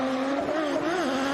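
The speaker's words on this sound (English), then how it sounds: "Listen to those cars scream as they come around the second corner" Drift cars, a red Nissan S13 among them, with 2-litre RB and SR engines, scream around the second corner at Pheasant Wood Circuit, a loud sustained high-revving wail with shifting pitch.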